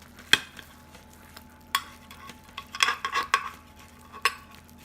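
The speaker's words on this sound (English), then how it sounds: "I don't know if you can hear it sizzling here." Bread and butter pudding sizzles softly in a hot dish, faint crackles and a few sharp clinks of utensils or cookware scattered through a quiet kitchen, with no talk.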